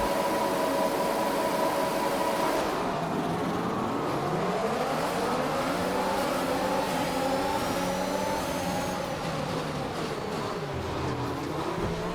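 Formula 1 cars in the F1 2021 racing game scream through rising and falling engine revs, several cars accelerating together in a steady, loud roar with no talk over it.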